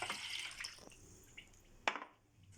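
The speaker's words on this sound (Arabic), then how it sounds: "وغادي نزيد الماء." Water pours into a cooking pot of milk for a simple dessert, a soft watery splash and trickle with a couple of brief sharper drips, close and quiet with no talk.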